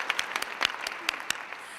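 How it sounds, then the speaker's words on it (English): An audience of students claps briefly in a room at a mayor's event, a short patter of scattered individual claps that stays moderate and fades quickly. "So give yourselves a round of applause again."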